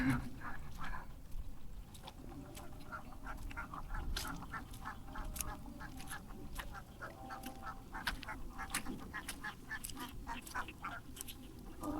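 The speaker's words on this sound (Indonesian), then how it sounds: "Banyak bebek tuh." Ducks quack repeatedly in short, scattered bursts over a steady outdoor background hum, some calls nearer and louder than others.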